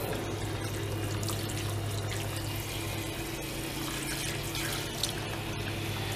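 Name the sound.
rinsing a kitchen sink with hot tap water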